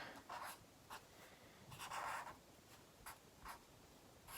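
Pen strokes on paper while drawing high-top shoes, a series of soft scratchy bursts that come and go in an irregular rhythm, close and quiet, with one longer stroke in the middle.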